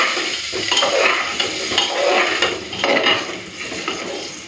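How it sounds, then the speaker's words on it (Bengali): Cut potatoes fry in hot oil as they are stirred, a loud steady sizzle with repeated scraping and clinking of a spatula against the pan, no talk. "তেলটা গরম হয়ে গেছে, কেটে রাখা আলুগুলো দিয়ে দিচ্ছি।"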